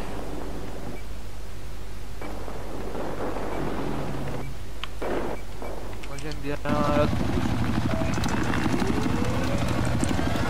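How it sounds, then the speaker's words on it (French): A helicopter in the shooter game Battlefield 4 thrums with a steady low rotor drone alongside gunfire and game effects, while someone talks over it. "Je vais essayer d'aller les déloger à l'hélico"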